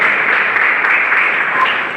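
A church congregation claps steadily and evenly during a family worship service for about two seconds, a dense wash of applause with no voices standing out.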